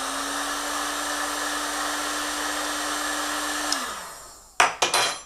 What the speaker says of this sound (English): I hold that on with the spoon and gently heat it with the heat gun.